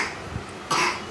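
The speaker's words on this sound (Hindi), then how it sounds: "हाँ देखो, खांस रही है।" A young girl with a cold coughs once, then again more forcefully, close to the microphone, with no talking around it.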